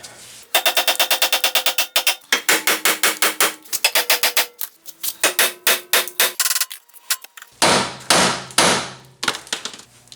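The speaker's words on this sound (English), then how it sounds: "Now let's give it a few good hits and see what happens here." Rapid bursts of sharp metallic hammer blows on a rusty ball joint, fast rhythmic volleys broken by short pauses, loud and close, ringing with a hard clank.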